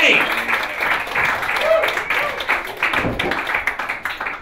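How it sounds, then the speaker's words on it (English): A stand-up comedy show audience in Brooklyn breaks into loud, sustained applause and clapping as a comedian is welcomed to the stage, with cheering voices mixed in. "give him a big round of applause and welcome him to the stage, Dan Boulger."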